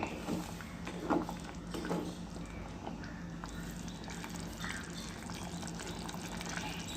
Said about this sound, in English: You can see that it is starting to simmer, so I'm going to reduce the heat completely.